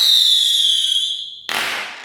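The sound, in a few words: fireworks exploding at normal playback speed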